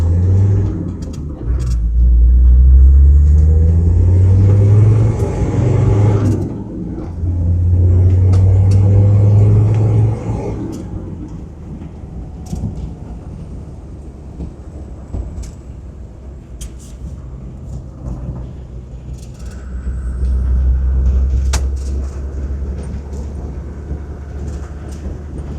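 A classic light commercial vehicle out on a road test, its engine giving a loud low rumble that swells twice early on, eases to a steadier drone, then builds again near the end, with no talk over it.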